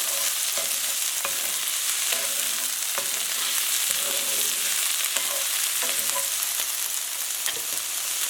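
Sesame chicken sizzling loudly in a pan as it is stirred, a bright continuous fry with regular scraping strokes of the utensil cutting through every second or so.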